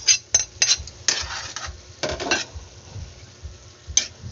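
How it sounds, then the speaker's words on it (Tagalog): Chicken sarciado with tomatoes stirred in a pan, a spoon scraping and clinking against the metal in uneven strokes over a faint sizzle, close and loud. "Haluin lang po mabuti at palambutan pa po mabuti yung kamatis."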